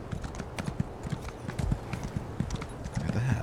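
Horse hooves clip-clop in Elder Scrolls Online, a steady run of hoofbeats close by at moderate loudness over a busy game background, with a brief whinny-like sound near the end.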